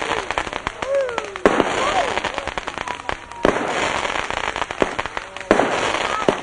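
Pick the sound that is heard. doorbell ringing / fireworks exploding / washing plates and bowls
fireworks exploding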